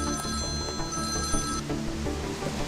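A telephone bell rings in a steady, harmonic trill that runs for the first moment and a half and then stops. Low background noise continues underneath. No one speaks.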